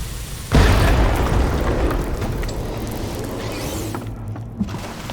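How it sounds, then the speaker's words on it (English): A loud boom from an explosion in the video game The Cave bursts in suddenly and then rumbles on as a long, fading roar, heard alone with no talking. "I told you to stand away from the explosion."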